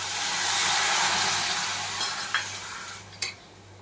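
Half a cup of water added to melting jaggery in a hot wok over a gas flame, giving a broad steady sizzle with a low hum, then two brief sharp clinks of a spoon against the pan near the end.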